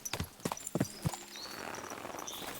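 Horse hooves clip-clop in Kingdom Come Deliverance 2: a few distinct, fairly close hoof thuds over about a second, then they stop and only a steady outdoor ambience remains.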